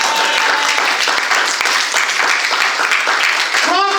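A church congregation applauds the Lord, loud sustained clapping from a large crowd that fills the room for several seconds without letting up, with a brief voice rising near the end.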